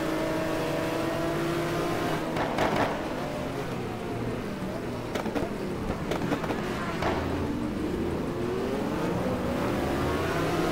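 Racing cars scream around the Suzuka circuit in a GT1 racing game, engines revving and shifting pitch as they chase each other closely, loud and continuous with sweeping changes of tone as the cars accelerate and brake.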